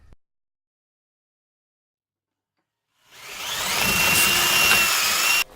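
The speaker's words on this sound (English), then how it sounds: "just watch me wire wheel these jaws" After three seconds of silence, a drill spinning a Harbor Freight wire wheel brush whirs up against rusty lathe chuck jaws, a steady close grinding buzz with a scratchy metallic whine that cuts off abruptly.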